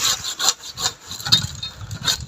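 Rhythmic strokes of a hand saw biting through olive wood while pruning an olive tree, about five rasping pulls, close by and fairly loud, with no talking.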